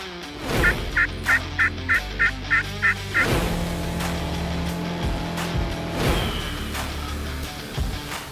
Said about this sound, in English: Gobblers on the island.